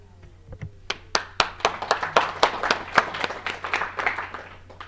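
A tech-event audience claps in a sparse, uneven patter of separate hand claps that thickens into steady applause, fairly close and moderately loud, with a low steady hum underneath.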